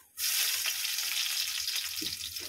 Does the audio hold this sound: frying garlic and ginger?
yes